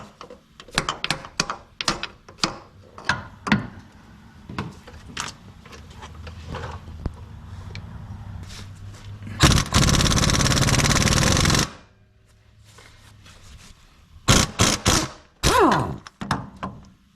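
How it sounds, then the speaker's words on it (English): An impact wrench hammers on a stripped 18 mm front differential fill bolt of a Chevy Trailblazer or GMC Envoy in one loud, continuous burst lasting about two seconds. Scattered knocks and clanks of tool handling come before and after it. "So let's try an impact and see if that works."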